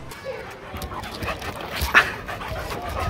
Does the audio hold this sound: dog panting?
yes